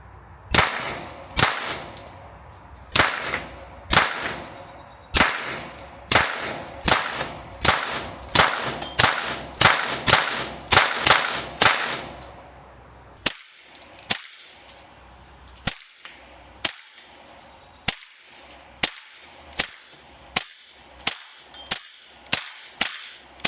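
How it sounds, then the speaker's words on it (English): A suppressed Smith & Wesson M&P FPC carbine fires .40 S&W rounds in a partially enclosed area, giving a long series of sharp, cracking reports. The shots come in quick clusters early on, then slow to evenly spaced single shots. "why don't we shift over to shooting some 40 Smith & Wesson"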